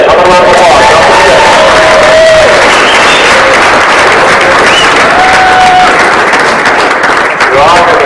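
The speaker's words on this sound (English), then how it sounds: "How about a round of applause?" Loud, sustained applause and cheering from an audience greeting motorcycling figure Malcolm Smith at a protest event, a dense wash of clapping with crowd voices and whistles running throughout.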